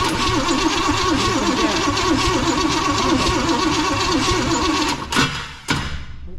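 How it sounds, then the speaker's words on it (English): The starter cranks an abandoned 1956 Chevy 3100 with a big-block 396 that hasn't seen gas in years. It churns in a steady, close, rhythmic cycle before cutting out with a couple of thuds. "Go ahead, crank it"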